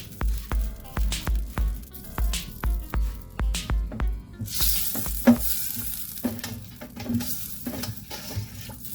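Food sizzles in a thin pot over a low fire, opening with a regular pulsing bubble-and-spit rhythm, then breaking into louder, irregular crackling bursts, close and clear with no voices.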